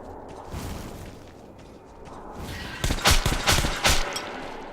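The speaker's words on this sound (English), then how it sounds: "But at least I have a very good shotgun." Shotgun blasts fired at spiders in the video game Metro Last Light, a rapid cluster of loud booming shots after a stretch of rumbling ambient noise.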